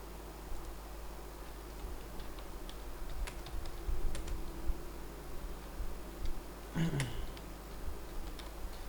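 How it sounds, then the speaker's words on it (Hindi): Keys tapped on a computer keyboard in sparse, uneven clicks over a steady background hum, fairly quiet and close. "हमने ये कुछ नाम टाइप कर लिया है"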